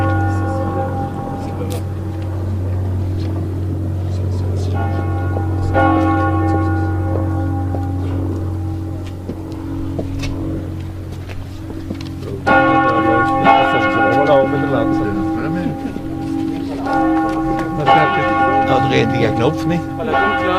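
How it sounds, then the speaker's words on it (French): The deepest church bell tolls with a low, sustained hum beneath repeated strikes, joined later by brighter ringing from another bell, loud and resonant throughout. "c'est la cloche la plus grave"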